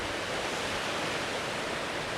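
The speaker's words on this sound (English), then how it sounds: "So I've come across these cascades here in the water there." Water tumbling over small cascades in a woodland river, a dense, unbroken rushing roar that stays close and loud from start to finish with no voices.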